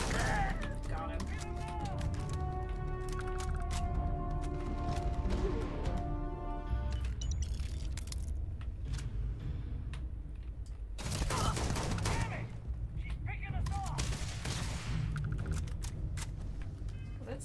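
Gunfire from a firefight in the video game Starfield, a busy stretch of shots and impacts layered over game music, with louder bursts late in the clip.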